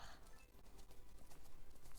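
Horse hooves in a horse racing video game, a fast, faint galloping clatter of several horses under a dense, noisy game soundtrack.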